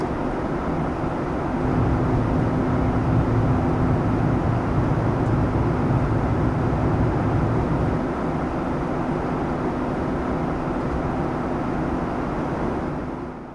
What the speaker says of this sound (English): it literally sounds like we're on a real airplane